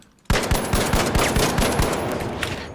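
Rapid automatic fire from the LH1 rifle in a first-person shooter game, a steady burst of sharp punchy shots in quick rhythm lasting over two seconds, loud and close with no talking.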